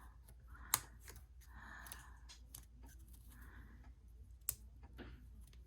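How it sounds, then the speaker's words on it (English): Two sharp metallic snips from scissors opening the prongs of a brad fastener, about four seconds apart, over a quiet room with faint handling rustle. "I put the scissors in between, and I open the prongs right here."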